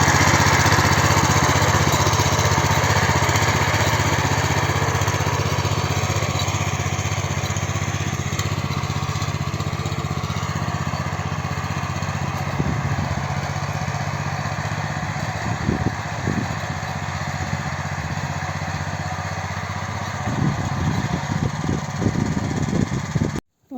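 A walk-behind tractor engine runs steadily while digging potatoes, a loud, close, continuous chugging drone with some knocking and rattling toward the end.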